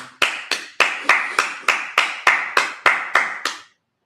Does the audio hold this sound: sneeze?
no